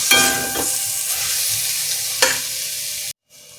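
Chicken curry with spices, coriander and curry leaves sautéed in a pan, a steady close sizzle with a few scraping stirs, then a brief cut to quieter frying.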